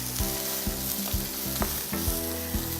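Brussels sprouts fry with chilies, oil and spices in a pan, giving a steady loud sizzle broken by several heavy scraping stirs at an even pace. No one speaks.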